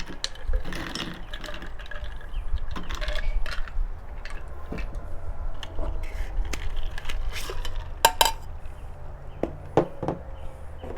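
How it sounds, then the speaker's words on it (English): Ice cubes clatter into a salted margarita glass, with a run of sharp clinks and rattles over a low, steady background hum, without anyone speaking. "Now, we have a salted glass, which we'll add ice to."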